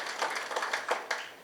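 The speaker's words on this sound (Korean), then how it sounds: "큰 박수로 맞이해 주시기 바랍니다." Brief clapping from attendees at a district staff meeting as neighborhood association leaders are introduced, a short burst of individual claps at moderate level in a room.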